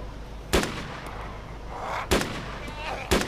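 Three sharp, loud gunshots from DayZ on the Namalsk map, evenly spaced about a second and a half apart over a steady background hum, with no talking.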